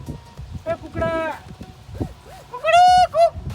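A person imitates a rooster crow in a Gujarati comedy sketch, giving two drawn-out, strained vocal calls with short voiced sounds before and between them, close and fairly loud.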